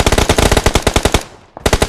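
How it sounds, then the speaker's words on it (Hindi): Rapid automatic gunfire from the mobile battle-royale game PUBG Mobile, loud close bursts of evenly spaced shots that pause briefly near the end, then resume. "मैंने भी गोलियां मारी लेकिन मरा ही नहीं।"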